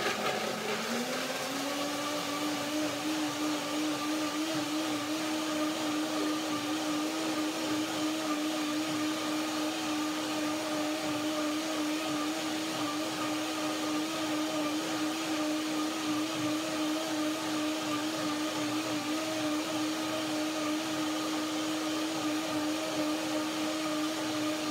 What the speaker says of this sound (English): it takes some moments for the blender to run free